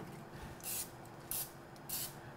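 Cooking spray hisses onto meatloaf pans in three short bursts, each about a fifth of a second long and spaced roughly half a second apart, close by over a quiet room.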